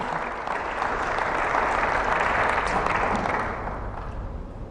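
A church congregation applauds steadily at a Spanish-language worship service, a dense, sustained wash of clapping that swells in the middle and tapers slightly toward the end, with no speech over it.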